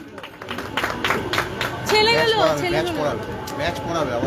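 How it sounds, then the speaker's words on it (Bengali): Audience at a Durga Puja gathering breaking into scattered clapping amid crowd chatter, with a nearby voice talking over the applause and a loudspeaker squeal partway through. "একটু করতালি হোক"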